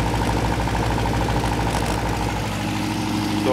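A 35-year-old Toyota motorhome engine idles steadily up close, with a faint buzzing rattle from the loose air cleaner lid riding over the even low hum throughout.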